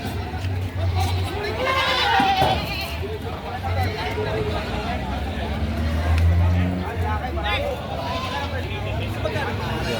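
Goats bleat several times at a livestock auction, a few wavering calls rising over a steady babble of talk and crowd noise, with people speaking nearby.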